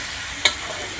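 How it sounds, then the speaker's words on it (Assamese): Chicken frying in a pan for a home-cooked meal, with a steady low sizzle and a brief bright scrape or stir near the middle, close and alone. "চিকেন ভাজি আছোঁ"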